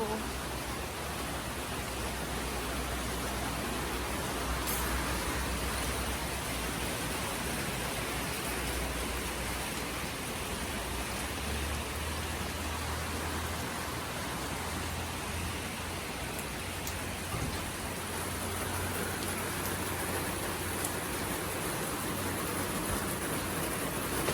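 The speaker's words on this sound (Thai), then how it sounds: "ฝนตกแดดก็ยังออกอยู่" Steady broadband rain falls on a sunshower day, a dense even hiss with no breaks throughout, close and constant, with a low rumble underneath.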